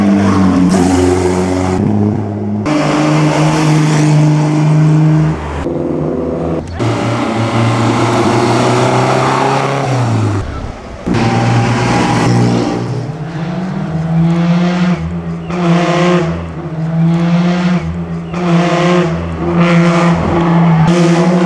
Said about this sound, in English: Alfa Romeo.